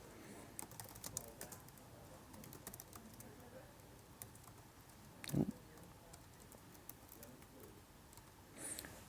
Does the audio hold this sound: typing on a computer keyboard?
yes